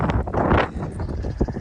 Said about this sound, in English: I know it's probably extremely windy